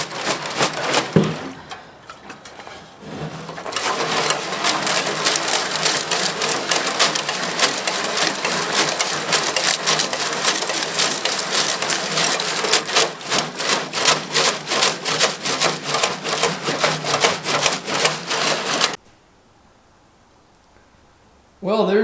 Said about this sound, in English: I'm going to grab the tank. I'm just going to shake this bad boy. screws in there.